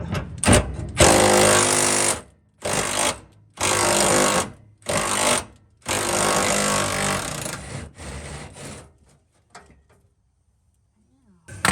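A half-inch impact wrench hammers at a rusted bolt on a 1995 Buick Roadmaster Estate Wagon, loud close bursts of rattling in about six separate pulls separated by short pauses, trailing into quiet.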